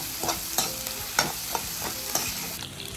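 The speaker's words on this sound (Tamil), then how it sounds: "இந்த முட்டையோடு சேர்த்து வெங்காயம், பச்சை மிளகாய், இஞ்சி பூண்டு எல்லாம் நல்லா வதங்கணும்." Onion, egg, green chili and ginger garlic sauté in a pan for chicken noodles, with a constant sizzle broken by about six rhythmic, sharp spatula scrapes and knocks, close and without voices.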